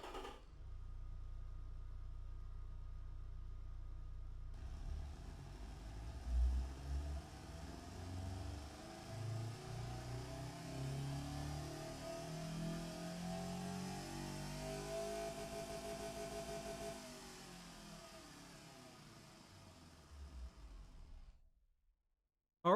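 Simulated 1986 Edison Luna engine in the Automation game starting up and running, a steady mid-pitched drone with gentle revving swells for about twelve seconds before cutting out into silence; no voices.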